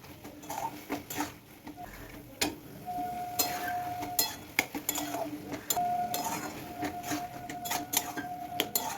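Boiled dal is sautéed and stirred in a pan for egg tarka. A spoon knocks and scrapes against the metal again and again over a low sizzle, and a faint tonal whine is heard in the background.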